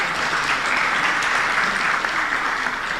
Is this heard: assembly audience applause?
yes